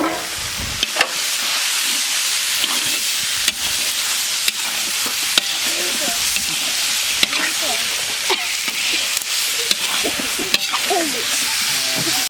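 Meat hisses and sizzles steadily in a hot pan over dry red chillies, cumin and coriander, with scattered stirring clacks and spattering pops, close and loud, cooking for a picnic feast.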